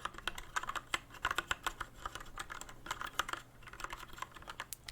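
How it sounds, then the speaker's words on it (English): Rapid, uneven clicking of keys on a computer keyboard, continuous typing in bursts at close range with no talking. "just typing sound"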